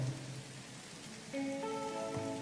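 Rain falls steadily around people sitting outside together, a dense even hiss of drops on surfaces with no talking, as a brighter tonal layer joins partway through.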